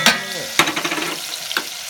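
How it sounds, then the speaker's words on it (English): Steady crackling sizzle of garlic frying in a pan outdoors in wet weather, for pesto wings, with a few louder clattering stirs over the continuous hiss. "we got that sizzling."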